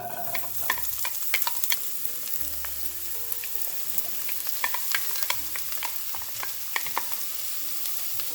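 Peppers frying in avocado oil in a pot, a steady sizzle with scraping and clinking of a utensil as the vegetables are stirred, close and continuous throughout, no talking.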